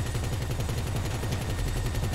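Rapid automatic gunfire in GTA Online during a yacht fight, a loud, steady stream of evenly spaced shots that runs throughout with no voices over it.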